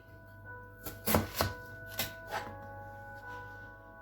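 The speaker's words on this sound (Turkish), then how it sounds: "Şu şekilde doğramak istiyorum patateslerimi." A few knife chops through potatoes on a cutting board, close and moderately quiet, spaced irregularly against low background noise.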